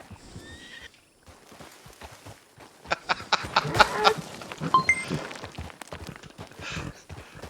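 A horse on a town street gives a loud, shrill neigh amid clip-clopping hooves, close by, with people talking over and around the whinnying.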